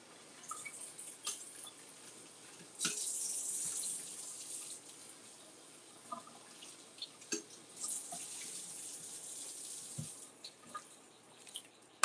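Water runs from a tap into a sink in a steady, fairly quiet stream, with several brief clinks and splashes of items being rinsed along the way.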